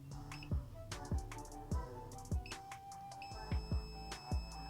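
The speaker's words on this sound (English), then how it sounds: "I'm going to touch the 2 probes together. It should beep." A multimeter emits faint continuity beeps as its probes touch, heard during PlayStation 5 repair work, with thin tones mixed among soft, irregular tapping and handling thumps in a quiet room.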